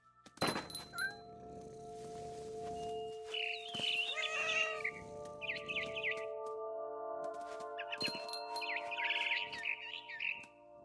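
A cat meows repeatedly in the video game What Remains of Edith Finch, with several sharp bursts over a sustained tonal game soundscape and bird chirps mixed in.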